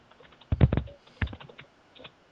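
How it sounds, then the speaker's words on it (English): Someone types on a computer keyboard, heard as a faint cluster of quick clicks followed by a second short burst and a few scattered taps, distant and quiet with no talk. "Oh, I can hear somebody yeah. typing."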